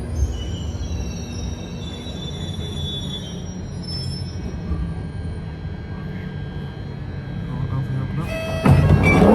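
A London Underground train rumbles along the track at steady loud volume, heard from inside the carriage with a high wheel squeal running throughout and a burst of harsher noise near the end.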